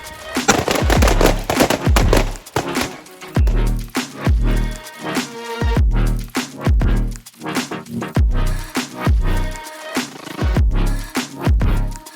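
Heavy gunfire from police officers shooting on command, loud repeated bursts of rapid shots with short pauses between volleys, echoing close by with no talk.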